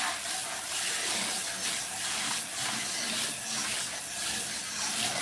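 Water pouring from a kitchen tap into a hot pan used for cooking steak and onions, a loud, steady hissing rush with a faint sizzle, continuous and close.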